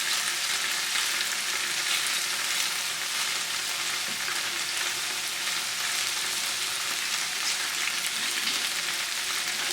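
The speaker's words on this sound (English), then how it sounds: "we'll flip our tofu over as it cooks" Tofu sizzles steadily in a hot pan for spicy Thai basil tofu, a dense, even frying hiss at close range with no talking.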